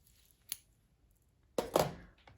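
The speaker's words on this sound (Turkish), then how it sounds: "Dikişte kullanmak için ipimi biraz uzunca tutarak kesiyorum." Scissors cut knitting yarn in a quiet room: a soft snip, a pause, then a louder, sharper double snip.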